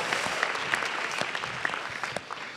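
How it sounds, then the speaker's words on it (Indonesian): Steady applause from a studio audience at a stand-up comedy competition grand final, dense and even throughout with a few sharper claps poking out of the wash. "Beri tepuk tangan sekali lagi untuk Yono Bakri"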